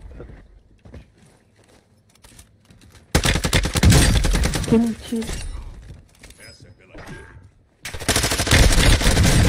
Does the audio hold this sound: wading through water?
no